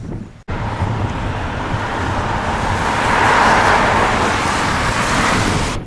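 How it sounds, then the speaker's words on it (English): Steady road traffic on an open Lake District road in Patterdale, a continuous broadband rush of passing cars with wind noise on the microphone, loud and unbroken after a brief opening dropout, with no voices. "Traffic's flowing freely, but there isn't a lot of it."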